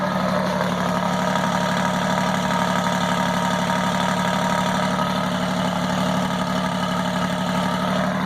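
The engine of an Alfa Romeo Giulia Quadrifoglio idles steadily with a low, even rumble and a constant hum, close by and unbroken throughout.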